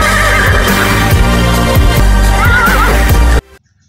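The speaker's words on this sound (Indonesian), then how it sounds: "Ini adalah kuda." A toy horse plays a loud, continuous neighing and whinnying effect over steady galloping clip-clop hoofbeats. The sound runs for over three seconds and then cuts off sharply.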